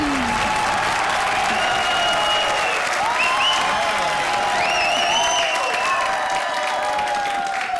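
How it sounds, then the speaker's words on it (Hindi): Studio audience applause at a television comedy show, a loud, dense, continuous clapping with some cheering and whistles riding over it. "और जोरदार तालियां हमारी हॉरर जोड़ियों के लिए"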